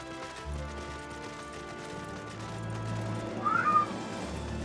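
A cat meows in the video game Final Fantasy XIV, a single short cry over steady game music and ambience.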